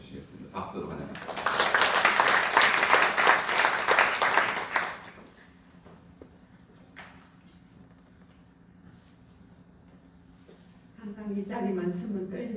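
Church congregation at a graduation thanksgiving service bursts into loud applause welcoming a speaker, clapping for a few seconds then fading into a quiet room, with voices returning at the end.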